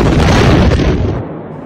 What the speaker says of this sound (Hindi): जहां एक बड़ा विस्फोट होता है और आसपास का इलाका तिनके की तरह बिखरने लगता है।